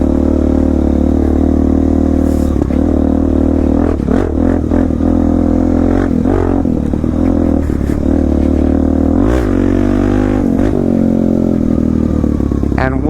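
A Suzuki DR-Z motorcycle rides off-road with a loud, constant engine drone close to the mic. The revs rise and fall as the bike works over rough ground, with occasional scrapes and rattles and some wind noise.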